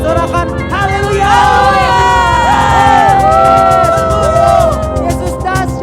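A children's congregation at a church service shouts and cheers hallelujah together, a loud, close wave of many young voices that rises and holds before easing off.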